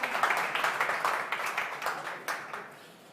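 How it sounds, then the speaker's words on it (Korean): An audience at a People Power Party policy presentation claps to welcome a candidate onto the stage, with light scattered hand claps that thin out and fade toward the end. "후보들께서 저 단상에 올라오실 때 박수로 환영해 주시면 대단히 고맙겠습니다"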